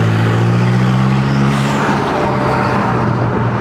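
BMW M5 with a rebuilt forged engine on its first drive, a loud, steady engine drone heard from inside the car, continuous and close throughout.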